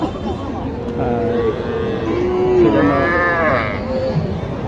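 Cattle, including heifers, lowing at a busy outdoor livestock market in Naogaon, Bangladesh, with overlapping animal calls and a steady murmur of people talking in the background.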